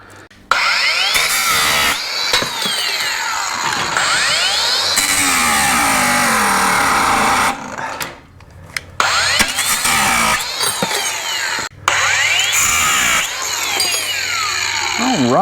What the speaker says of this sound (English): I'll cut the excess off with a Metabo